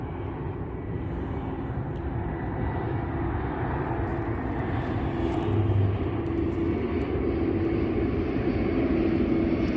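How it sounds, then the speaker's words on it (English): A plane passes overhead near an Orlando cemetery at night, a steady broad engine rumble holding for the whole stretch and swelling slightly toward the end, with no talk over it. "Plane."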